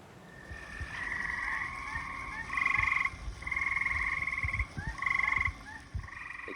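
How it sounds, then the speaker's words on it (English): Frogs croak in a backyard pond converted from a swimming pool in the northeastern USA, a chorus of repeated trilling calls in pulsing bursts, moderately close, over faint background noise. "all of a sudden we got inundated with frogs."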